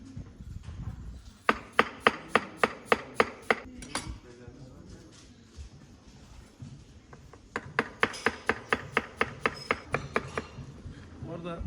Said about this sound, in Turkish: bunları üst üste koyup kibrit kibrit doğrayacağız